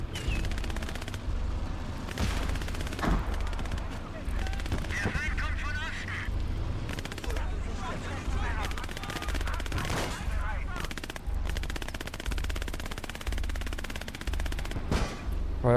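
Bursts of gunfire and machine-gun fire from the WWII strategy game Call to Arms: Gates of Hell Ostfront, in a Germany versus USSR battle with a Tiger I tank, rattle continuously and loudly with occasional heavier blasts under a busy battle mix.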